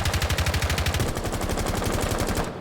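L85 rifle fire in a video game, a loud, close, evenly spaced rapid burst of shots that runs steadily for a couple of seconds before cutting off.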